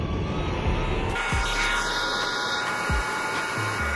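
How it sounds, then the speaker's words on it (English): Aircraft engines run steadily in a Minecraft flight simulator, a continuous close whooshing roar with low thumps at intervals and a brief rise in the middle. "Alright, so the engines are started up and start pushing back."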